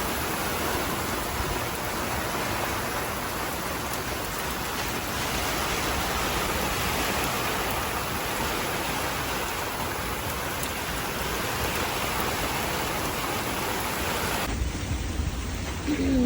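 Steady heavy rain pours down at sea aboard a sailboat caught in a sudden storm with gusty wind, a dense continuous hiss at close range and no voices.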